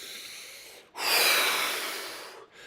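A person imitates noisy breathing with one long, rough, hissing inhale-exhale, loud and close, with no words spoken.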